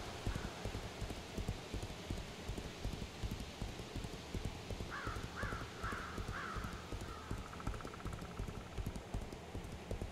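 Horse hooves clip-clop in a steady, continuous rhythm in the Legends of Aria video game, with a few crow-like caws partway through and no talking.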